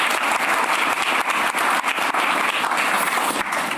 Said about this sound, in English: shout out and round of applause to them